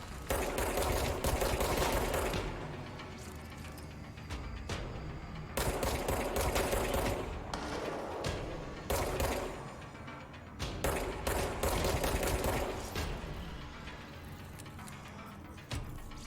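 Repeated shotgun blasts from the video game Control come in dense bursts separated by brief lulls, loud and close throughout the stretch with no talk.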